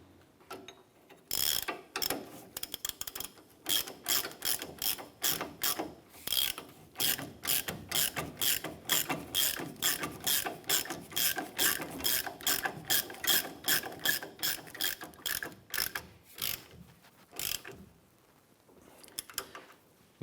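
A ratchet tightens a nut and bolt on the rear shock mount bracket of a 1993–1997 Ford Ranger, giving long runs of quick, loud, close clicks in repeated strokes with short pauses between them.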